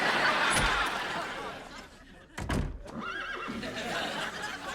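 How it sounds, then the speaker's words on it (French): A horse whinnies in a rising and falling neigh mid-scene against a noisy background, with people talking around it. "Est-ce que c'est ton cheval qui a henni"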